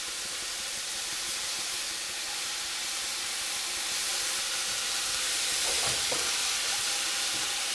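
A pan of Brussels sprouts with bacon and honey gives a steady, close hiss of frying and steam, with a few faint stirring scrapes near the end and no talking.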